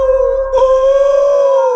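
A dog howls at night, one long, loud, drawn-out wavering tone held close and alone, after a brief low rumble at the start.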